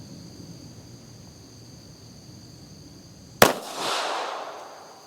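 A Sccy CPX3 .380 auto pistol fires a single loud, sharp shot at a target outdoors, cutting through quiet background hiss and followed by a short decaying echo.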